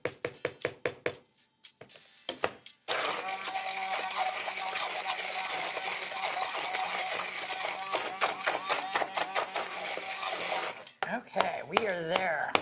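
Refried beans whirring in a food processor, a few short pulses first, then one sustained grinding run of about eight seconds that stops abruptly, followed by brief clattering and a voice.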